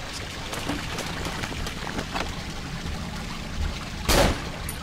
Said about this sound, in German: Ich höre doch Wasser.